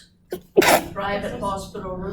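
A single sharp sneeze bursts out close by in a quiet exam review session, followed straight away by a person talking.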